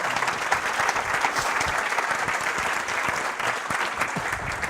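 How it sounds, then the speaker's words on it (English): A conference audience at AWS re:Invent 2017 applauds steadily and loudly for nearly five seconds, a dense continuous clatter of many hands with faint crowd murmur underneath. "come on, a round of applause"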